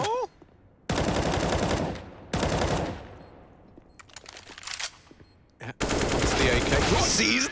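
AK rifle gunfire in Counter-Strike: Global Offensive during a professional ESL Pro League match, heard as three loud, sustained automatic bursts separated by quieter stretches of game ambience and faint shots.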